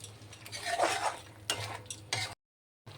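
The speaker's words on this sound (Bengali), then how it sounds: "আমি যে টমেটোর যে পেস্টটা করেছিলাম সেই টমেটোটা দিয়ে আবারও বেশ কিছুক্ষণ ধরে কষবো" Tomato paste is stirred and fried in a pan, with scraping and clinking of a spoon against the metal over a faint sizzle, close and quiet, then a short silence before it resumes.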